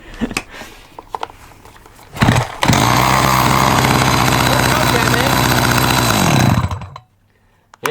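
Chainsaw engine roars loud and close at steady high revs for several seconds, then dies abruptly when choked out, leaving near silence; a voice talks briefly beforehand.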